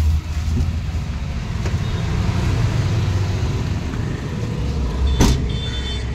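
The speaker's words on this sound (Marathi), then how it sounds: "हे टेम्पो आहे, 3 व्हीलर टेम्पो, CNG टेम्पो आहे, खूप जोरात जाते" Continuous low rumble of a three-wheeler CNG tempo driving along, heard from inside, steady and close, with a brief rattle near the end.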